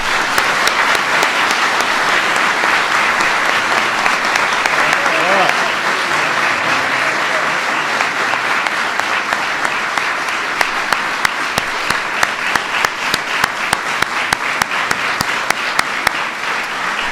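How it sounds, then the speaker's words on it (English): Big audience applause at a basketball event with Kobe Bryant, a loud, dense roar of clapping and crowd noise sustained throughout, with a voice talking faintly beneath it. "Give them a big round of applause."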